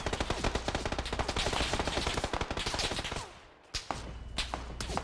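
Vector submachine gun in the video game PUBG firing short, controlled bursts with a compensator at a long-range target, a rapid crackle of repeated shots that pauses briefly before resuming, loud and close with no talk.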